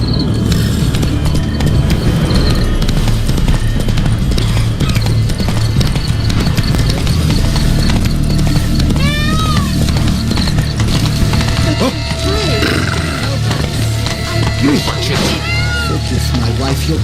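Horse hooves clip-clopping at a steady run in the game Witcher 3 Blood and Wine, continuous under dense ambient game sound with cat-like meows and voices speaking over it.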